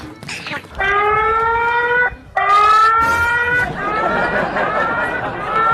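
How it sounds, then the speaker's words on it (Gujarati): Phone anti-theft security alarm sounding close and loud, a harmonic electronic tone holding steady, breaking off briefly, then returning and fading into a rougher, noisier stretch. "ચોરવા જાય ને તો ઓટોમેટિક અલાર્મ વાગી જશે."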